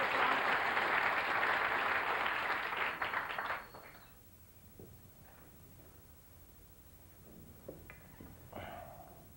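A round of applause from the audience at a 1996 snooker trick-shot exhibition, a loud dense wash of clapping for the first four seconds that stops abruptly and leaves quiet room noise with a few faint knocks.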